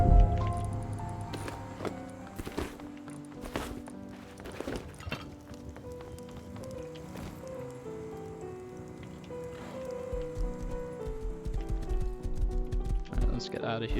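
Horse hooves clip-clop along at a quick pace in the video game Rust, amid music and scattered game sounds, with the rhythm growing busier toward the end.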